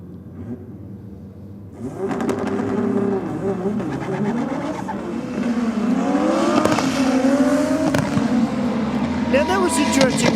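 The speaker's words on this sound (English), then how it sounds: "The nitrous purged just as he launched it." A nitrous-fed Commodore drag car launching against a turbo Falcon, a loud rising engine roar that swells and holds after a quieter opening, with commentators talking over it.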